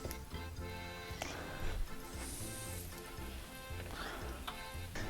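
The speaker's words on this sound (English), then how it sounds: "So once your oil's hot, just kind of toss your cutlets in the pan there." Pork schnitzel cutlets frying in hot olive oil in a pan, a steady close sizzle and crackle running throughout with no talk.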